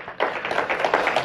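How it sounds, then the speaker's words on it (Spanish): A church congregation claps in a brief, dense patter of applause during an evening worship service, quick and close. "Denle un fuerte aplauso al Señor."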